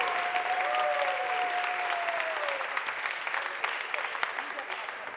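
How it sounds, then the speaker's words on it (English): Applause from an audience at a strategy slam event in Vienna, with dense clapping that thins out toward the end while a voice carries over it. "Big hands of applause."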